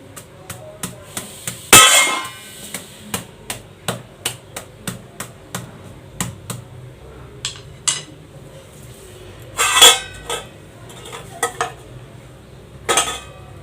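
A whole garlic bulb is tapped lightly with a wooden rolling pin on a hard kitchen surface, giving a steady series of about twenty close wooden knocks, with a few louder, sharper strikes among them.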